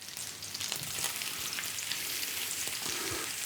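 Oyster mushrooms frying in butter and walnut oil in a pan over fairly high heat hiss with a soft, steady sizzle, broken by occasional low knocks and small shifts as the pan is moved.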